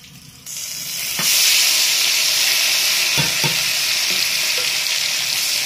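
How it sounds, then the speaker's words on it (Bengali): Chopped ginger and onion hit hot oil in a pan for prawn curry, bursting into a loud steady sizzle that continues throughout, with a few soft clicks of a spatula stirring. "তেলটা গরম হয়ে গেলে আদা আর পেঁয়াজ দিয়ে কিন্তু ভালো করে এ করে নেওয়া হচ্ছে"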